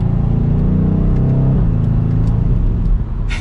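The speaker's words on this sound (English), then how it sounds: "And there's some pops in that exhaust too" Exhaust note of a 2022 BMW M850i xDrive Gran Coupe while driving, a loud close engine drone that drops in pitch as it eases off, followed by faint crackling pops near the end.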